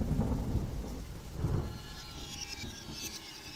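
Steady rain pours outdoors beside a freshly dug hole, a broad continuous hiss with low rumbling bursts like distant thunder, sustained throughout and heard alone.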